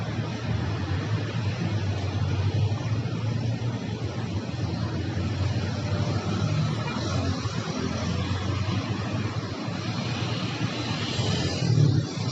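Street traffic in El Poblado, Medellín, a continuous low rumble of passing vehicles and engine drone, steady and moderately loud throughout, with a slight swell near the end and no clear speech.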